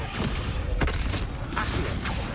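A Descendo spell slams a target down in the Hogwarts Legacy video game, heard as a dense, loud burst of booming impact and rumbling effects with a few heavy thuds over about two seconds.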